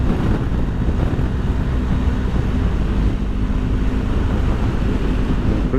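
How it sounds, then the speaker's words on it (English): Steady wind roar buffets the microphone while riding a BMW R1250GSA motorcycle through the west and north of Ireland, a dense continuous low rush with no pauses and no voices. "it's definitely a lot more windy today"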